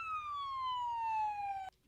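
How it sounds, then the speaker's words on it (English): A police siren wails steadily in a single long, slowly falling tone, fairly distant and moderate in level, then cuts off abruptly near the end. "There's a siren."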